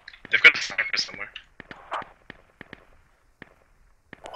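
Sharp isolated gunshots from a sniper in the video game Squad snap at irregular intervals, distant and fairly faint, coming after a stretch of talk and then standing mostly alone.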